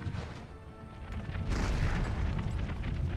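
Artillery cannon fire in the video game Empire Total War: dense rumbling booms and crashes of battle, with a heavier surge of distant impacts partway through.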